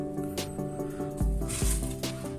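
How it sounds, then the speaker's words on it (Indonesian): A compressor-driven vacuum tool sucks brake fluid from a car's brake reservoir, giving a close, loud hiss over a steady mechanical hum with a few short squelching pulses. "Nah, ini keran dibuka, dia langsung hidup nih. Langsung nyedot."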